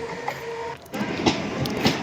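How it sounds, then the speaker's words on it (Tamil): A Chennai suburban train pulls out of Pazhavanthangal station in the evening, with rhythmic metallic clacks and rattles over a lull of quieter hum. "நம்ம இறங்கின ட்ரெயின் போகுது."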